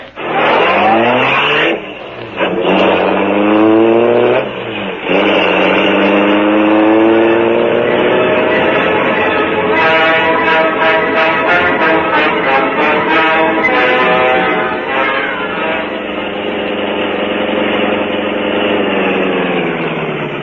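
Car engine effect from a 1939 radio drama, The Green Hornet: a loud engine revving and accelerating as the car drives, rising and falling in pitch, then settling into a steadier running drone, with no talk.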